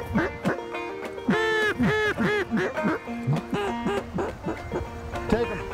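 A flock of ducks flies in during a family waterfowl hunt in British Columbia, with many loud overlapping quacks and honks close by in rapid, irregular bursts.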